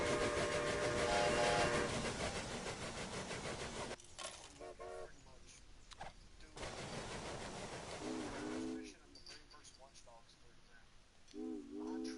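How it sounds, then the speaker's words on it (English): Trains running in the railroad strategy game Railway Empire, with a dense rumble of rolling stock and repeated short whistle toots in the foreground, while someone talks over parts of it. "Now I have 8 trains running right now."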